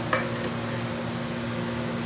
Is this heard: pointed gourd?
yes